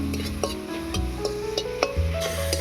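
Ginger and garlic fry in a pan with a steady sizzle, broken by repeated scraping and clinking strokes of a spatula stirring them, close by with no talk.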